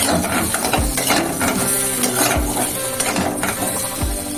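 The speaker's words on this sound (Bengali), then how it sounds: "কাঁচা লঙ্কা দিয়েছি দিয়ে আলুটা ভাজছি" Boiled potatoes frying with green chillies in oil in a pan, heard as a dense sizzle mixed with repeated clanks and scrapes of a utensil against the metal, close and fairly loud.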